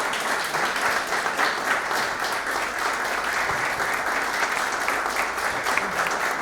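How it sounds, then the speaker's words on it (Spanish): A crowd applauds steadily, a dense wash of many hands clapping at an even level throughout with no voices standing out. "también le damos un aplauso a Horacio, a Job y a Quique"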